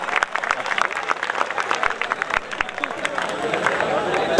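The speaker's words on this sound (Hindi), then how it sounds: "जोरदार ताली है जरा" An audience at a college farewell party claps in scattered, lively applause, with individual sharp claps standing out over a murmur of crowd voices.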